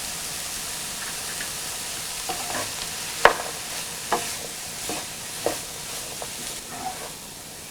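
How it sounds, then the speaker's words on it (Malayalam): Asparagus stir-fried in an open pan over medium flame, a soft continuous sizzle broken by several sharp spatula knocks and scrapes at irregular intervals. "ഇതിനി നമുക്ക് തുറന്ന് വെച്ച് സ്റ്റിർ ഫ്രൈ ചെയ്തെടുക്കാം."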